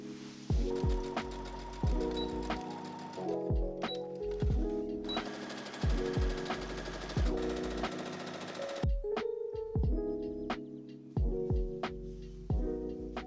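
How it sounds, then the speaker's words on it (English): A sewing machine stitches a satin prom dress pocket seam in short bursts of rapid mechanical whirring, stopping and restarting several times, close and moderately loud with no talking. "then I'm going to sew all the way down."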